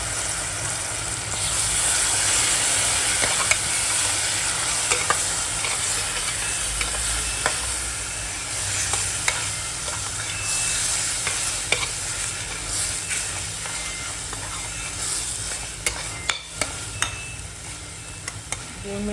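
Mutton sautéing with green masala in a pan gives a steady close sizzle and frying hiss, with scattered clicks and scrapes of stirring throughout and no talking.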